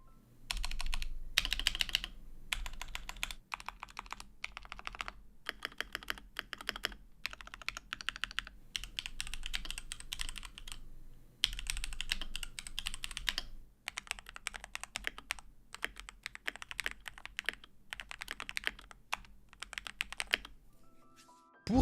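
Continuous clacky typing on a Keychron K6 mechanical keyboard, rapid keystrokes in bursts with brief pauses, close and alone.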